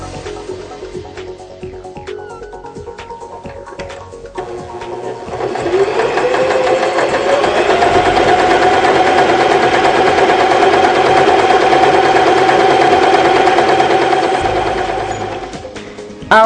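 A sewing machine runs a reinforcement stitch: after a few quiet mechanical clicks and handling noises, the motor starts up into a loud, steady, rapid whirring hum that holds for about ten seconds before winding down and stopping.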